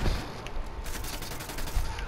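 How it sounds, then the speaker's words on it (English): A flashbang grenade goes off in a tactical shooter video game, producing a dense, loud blast with a sustained ringing, crackling wash that fills the whole moment, with no voices. "Flashbang out."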